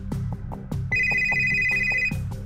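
A telephone rings with a bright electronic trill lasting about a second, set over steady rhythmic thumping background music.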